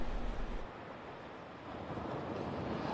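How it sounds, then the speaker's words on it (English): Ocean surf washing onto the beach at Narragansett, Rhode Island, a steady broadband roar of breaking waves mixed with gusty wind buffeting the microphone, loud and continuous with no talk. "We can hear those waves behind you."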